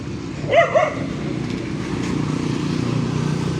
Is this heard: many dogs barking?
yes